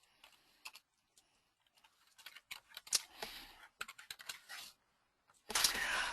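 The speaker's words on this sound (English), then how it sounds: "let me just type something in here" Keys clatter on a computer keyboard in scattered bursts of quick clicks, close and fairly faint, with short pauses between runs and a denser burst at the end.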